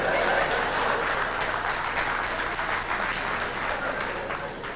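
Steady applause from a comedy show audience, dense and sustained throughout, easing slightly toward the end with a faint murmur of crowd voices beneath it.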